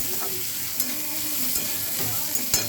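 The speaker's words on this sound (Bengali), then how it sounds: "এটা দিয়ে দেবো, দিয়ে একটু নেড়ে নেব।" Peanuts and cashews frying in oil in a pan, a steady soft sizzle with a few light spoon knocks as they are stirred, close and without speech.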